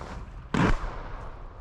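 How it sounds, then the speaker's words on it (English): Distant artillery explosion in a war zone, a single muffled boom bursting out and fading over a low background rumble. "We hear some artillery explosions in the distance."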